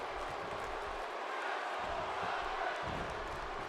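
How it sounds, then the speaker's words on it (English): A crowd of fans chants at a wrestling match in the video game WWE 2K16, a steady roar of massed voices that holds for several seconds at a constant, moderately distant level. "These fans chanting sexual chocolate at Mark Henry."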